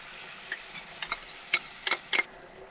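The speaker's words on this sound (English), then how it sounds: "Cooking up some shrimpies." Shrimp cook in a pan at a camp stove in a truck camper, with soft sizzling under a few scattered utensil clicks and stirring taps, faint and close, no talking.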